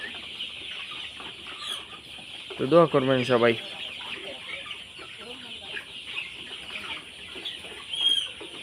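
Sonali chickens cluck and call in a noisy netted coop, with a louder burst of clucking partway through and someone speaking briefly over the steady background hum.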